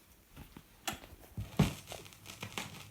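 Irregular crackles and pops, soft and close, scattered unevenly over a quiet hiss like surface noise on a spinning vinyl record being cleaned with wood glue.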